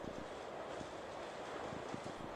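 A train rolling on rails during a long journey, a steady faint rumble with soft rhythmic wheel clicks beneath a continuous rushing noise.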